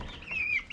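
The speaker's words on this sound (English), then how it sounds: "I've got 2 roosters in there. That's one of them right there." A single short call from an Easter Egger rooster inside a chicken coop, faint and close, a brief rising then falling squawk.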